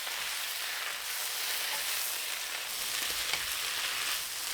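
Gai Lan stir-fries with garlic, salt and light soy sauce in hot oil over high heat, a steady dense sizzle that holds without break.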